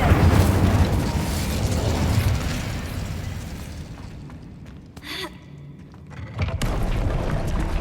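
Incendio fire spell cast in Hogwarts Legacy, a loud whooshing, crackling burst of flame that swells at the start and fades over several seconds. A sharper pop and a second roaring surge follow near the end.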